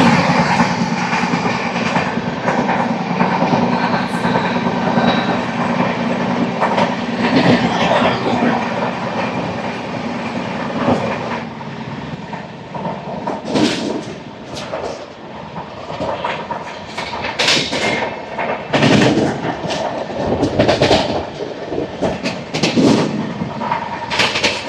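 Andaman Express rolling past on rails without stopping at Nidubrolu railway station, a steady loud rumble with rhythmic clickety-clack of wheels over rail joints and bursts of clattering as carriages go by, no voices.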